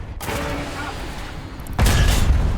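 Tank cannon fire in War Thunder realistic battles around a German Jpz 4-5 tank destroyer: a sharp, loud shot opens, rumbling fades, then a second heavy, booming blast hits near the end, with a voice talking over it.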